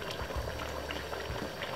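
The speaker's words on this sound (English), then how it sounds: "Look at that. Cooking, boiling up." Jamaican curry chicken boils in a pot on the stove, giving a close, continuous bubbling and gurgling with no talking.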